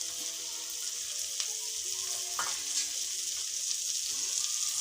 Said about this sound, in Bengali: এগুলো বেশিক্ষণ ভাজা দরকার নেই, অল্প সময় ভেজে নিতে হবে।